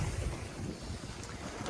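Wind rushing over a sailboat at sea on the North Sea, a continuous loud broadband buffeting with microphone wind noise and wave wash, no voices.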